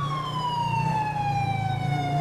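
Police car siren in GTA 5, a loud continuous wailing tone sweeping slowly downward with a low engine rumble underneath, close and steady throughout.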